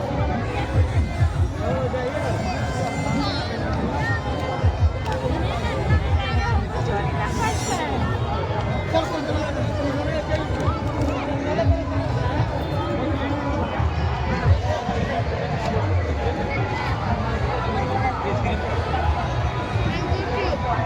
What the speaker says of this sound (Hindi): भीड़ देखो कितना भयंकर भीड़ है